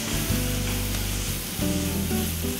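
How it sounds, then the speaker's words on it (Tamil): Prawns roasting in a pan, a continuous sizzle under strong steady low tonal hum, constant and close with a brief dip midway, no voices. "ப்ரான் நல்லா இதில் ரோஸ்ட் ஆகட்டும், சீக்கிரமாக ஆகிடும்."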